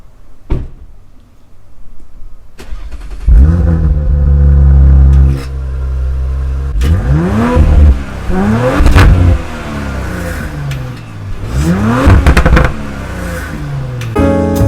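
Combustion car engines rev one after another, each blip climbing and falling in pitch, loud and close, with a brief thump and idle between bursts.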